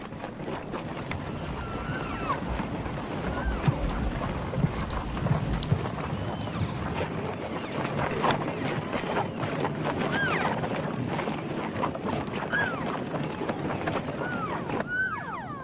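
Horse-drawn sleighs carrying hay move through winter snow on an elk refuge near Grand Teton, with dense clip-clopping hooves, occasional whinny-like calls and clattering, continuous and fairly close throughout.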